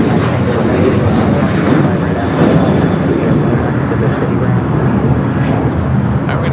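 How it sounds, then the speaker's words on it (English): United Airlines Boeing 787 Dreamliner at Los Angeles International Airport, a steady broadband engine roar holding loud and constant throughout, with a voice talking over it. "We do have a United Dreamliner."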